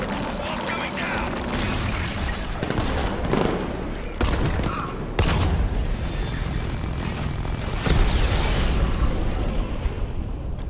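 Sustained gunfire and explosions in Batman: Arkham Knight as a tank is destroyed, a loud continuous barrage with heavy booms punctuating it and voices mixed into the chaos.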